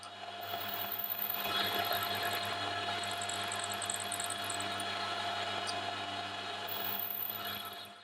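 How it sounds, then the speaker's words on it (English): A two-flute steep-helix carbide end mill cuts an aluminium workpiece held in an ER40 collet with long stick-out, giving a steady, fairly quiet continuous grinding hiss with a faint high whine throughout. "I'm going to be coming in with a 2 flutes steep helix carbide end mill that's specifically designed for cutting aluminium"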